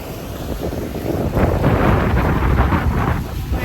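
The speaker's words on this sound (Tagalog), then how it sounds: "Grabe, ang lakas po ng alon dito." Strong, rushing ocean waves on Boracay with heavy wind buffeting the microphone, a continuous roaring wash that swells louder in the middle.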